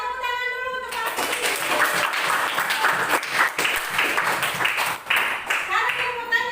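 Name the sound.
class applauding for a student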